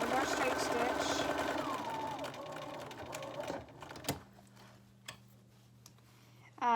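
A sewing machine runs a straight stitch along the raw edges of a cloth face mask, a steady close whir under a talking voice that slows and stops partway, followed by a few light clicks and a thump.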